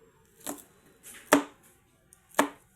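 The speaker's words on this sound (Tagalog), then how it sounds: "I-chop na natin guys ang ating bawang" Garlic is chopped on a board with a knife, three crisp separate strokes spaced about a second apart, close and clear in a quiet kitchen.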